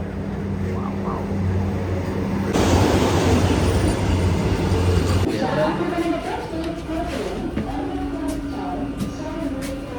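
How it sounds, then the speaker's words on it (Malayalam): A Vande Bharat train approaches a station with a rising rumble and loud rushing noise in the middle, while people talk nearby over the din. "ഓറഞ്ച് വന്ദേ ഭാരതാണ് വരുന്നത്."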